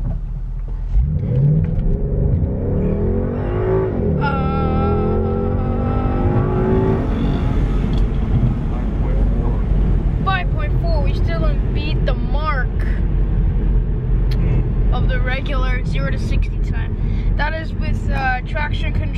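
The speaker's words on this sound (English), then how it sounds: "we're gonna do another 0 to 60 test in the 2017 Ford Mustang GT convertible" A 2017 Ford Mustang GT convertible accelerates hard during a 0 to 60 run on a rough road, its engine rising in pitch through the gears with a deep rumble, while people talk and exclaim over it.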